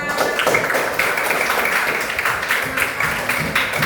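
A classroom audience applauds, steady dense clapping throughout with scattered sharper claps, fairly close and continuous without talk over it.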